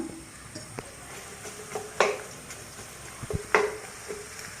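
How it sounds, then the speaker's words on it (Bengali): Chopped onion frying and being stirred in a pan for an egg and tomato scramble, with a steady soft sizzle broken by a few sharp spatula scrapes and clinks against the pan. "প্রথমেই ভালো করে আমি পেঁয়াজটা হালকা করে ভেজে নিব"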